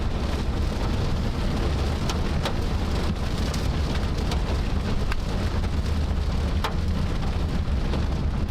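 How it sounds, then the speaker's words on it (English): Heavy rain with hail pelting down during a supercell thunderstorm in Nebraska, a dense steady roar broken by a few sharp close impacts, with no voices. "are some hailstones, but these aren't that big"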